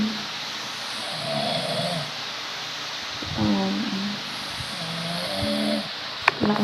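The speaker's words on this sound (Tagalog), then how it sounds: "Lakas ng hilik ng isa." A person in deep sleep snores loudly and close by, with several rough, rumbling breaths in a slow, regular rhythm.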